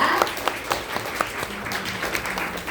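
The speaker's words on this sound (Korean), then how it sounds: "큰 박수 보내드리겠습니다." Brief applause from a seated Korean audience after a talk, a short spell of scattered clapping with a few sharper claps standing out, fairly close and moderate in level.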